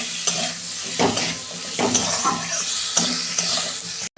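Potatoes frying in oil with a little salt and turmeric for a fish-head and cabbage dish give a loud, steady close sizzle broken by spoon stirs scraping the pan, no voices.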